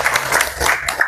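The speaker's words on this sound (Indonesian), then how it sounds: "berikan tepuk tangan dulu" Applause from a high school class during a lesson, a dense patter of many hands clapping close by for about a second, with no talk over it.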